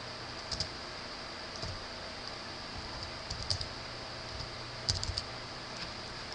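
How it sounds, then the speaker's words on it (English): Keys clicking on a computer keyboard while a name is entered into music-mixing software, faint close taps in a few short bursts over a quiet background hiss. "typing in a name that you want"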